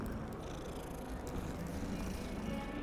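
A cat in the video game Hogwarts Legacy purrs as it is stroked: a soft, steady, low rumbling purr that runs quietly and continuously over a faint background hum.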